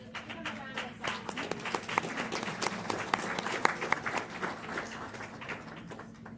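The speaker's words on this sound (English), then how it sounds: "Give them a round of applause." Attendees at a school board meeting give a round of applause, steady moderate clapping from a roomful of people with faint voices underneath, lasting several seconds.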